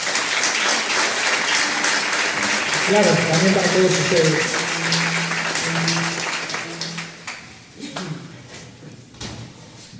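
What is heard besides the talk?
concert audience applauding the sound engineer Oscar Saldaña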